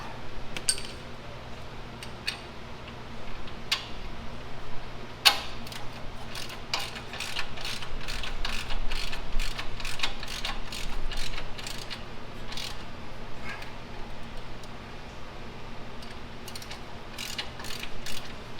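Ratchet wrench clicking in repeated bursts while tightening bolts during a 2-inch leveling kit install on a 2022 Toyota Tacoma, with a steady low hum underneath; close, moderate level, no talking.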